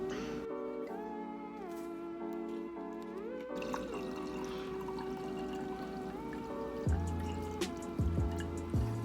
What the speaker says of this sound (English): It's a red Moscato. Let's pour it up.